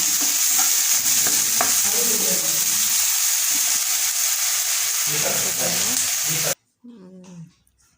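Two chopped onions sautéing in a pan for Tamil potato bonda, a loud continuous sizzle with spatula stirring scrapes, cutting off abruptly near the end to a brief quieter rustle.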